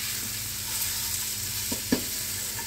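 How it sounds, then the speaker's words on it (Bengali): Corn sheets fry in a pan over lowered flame, giving a steady close sizzle with a few soft scraping knocks from stirring, alone and without voices. "এই সময় আমি ঢেলে দিই কর্ন শিটগুলো, ফ্লেম কমিয়ে নিচ্ছি"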